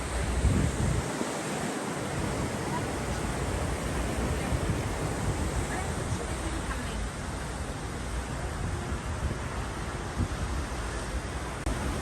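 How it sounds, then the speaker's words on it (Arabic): Sea waves breaking right behind a seaside cafe, a continuous broad wash of surf mixed with wind rumbling against the microphone, steady and fairly loud throughout. "بص انت قاعد وراك البحر على طول"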